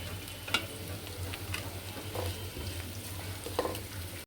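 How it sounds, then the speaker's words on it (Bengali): Meat added to lightly fried onions in a pan sizzles steadily, with a few sharp stirring clinks against the pan, close and moderately quiet, no talking. "পেঁয়াজ হালকা ভেজে নেওয়ার পরে এখন মাংসটা যে রেখেছিলাম সেটা দিয়ে দিচ্ছি"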